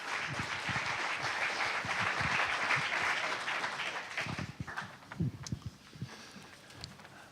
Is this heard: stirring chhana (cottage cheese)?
no